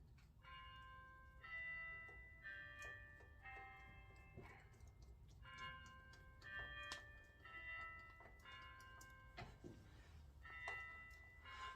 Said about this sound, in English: There's those church bells again.